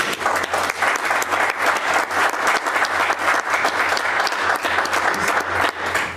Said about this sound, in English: These guys don't normally clap at the end of this.